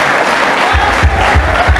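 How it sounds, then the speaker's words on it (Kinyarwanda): A church congregation claps for God, loud, dense applause with a few heavier low thumps toward the end, filling the whole moment without any talk over it. "Mukomere Imana amashyi."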